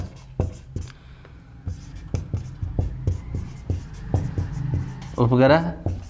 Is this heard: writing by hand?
yes